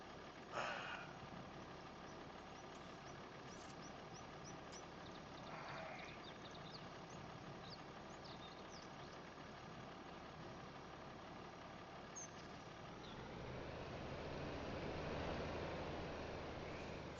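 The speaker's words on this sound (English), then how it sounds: "So let's get over here to the tractor and get her fired up" In a farming simulator game, a tractor engine cranks with a short burst, then settles into a steady low idle that swells louder and rougher toward the end as it revs up, with no talking.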